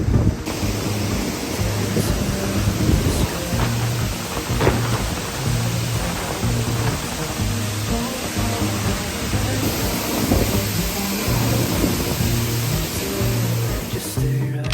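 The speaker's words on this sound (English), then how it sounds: "then you get to see a cool cave waterfall" A waterfall inside a cave on Iceland's South Coast roars as a steady, broadband rush of falling water, constant and enveloping with wind buffeting the microphone.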